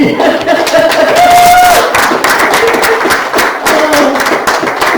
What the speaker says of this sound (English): I'd like for you all a round of applause for Sheri.